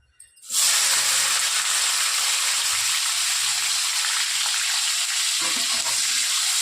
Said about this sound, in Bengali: এই দেখুন তেলটা গরম হয়ে গেছে, শুটকিগুলো দিয়ে দিচ্ছি।